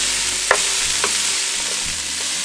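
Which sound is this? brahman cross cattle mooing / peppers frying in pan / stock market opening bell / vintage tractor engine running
peppers frying in pan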